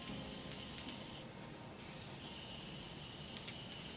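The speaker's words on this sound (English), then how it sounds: "Anyone else keep their eyes open when they do setting spray?" Morphe Continuous Setting Mist sprayed onto a face in a few short hissing bursts, fine and close, with quiet gaps between them and no talking.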